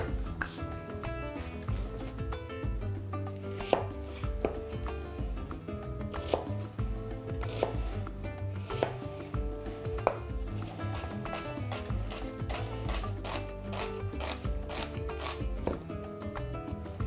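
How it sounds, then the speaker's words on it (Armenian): One onion being finely chopped with a knife on a board: quick, rhythmic, close-up knife taps repeating steadily with a few louder strikes, no talking. "մանր կտրատած 1 գլուխ սոխ"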